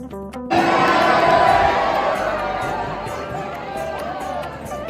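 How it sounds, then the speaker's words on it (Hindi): Dense crowd noise at Radha Vallabh temple in Vrindavan, a loud, steady wash of many voices and chatter that swells suddenly after a brief quieter start and holds for several seconds. "राधा बल्लभ जी के मंदिर में भी इतनी ही भीड़ थी"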